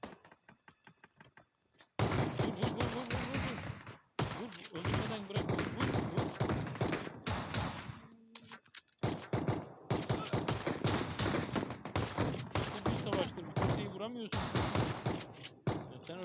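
Rapid bursts of gunfire crackle through a PUBG battle royale match, dense volleys of shots punctuated by short gaps, with players talking over the action.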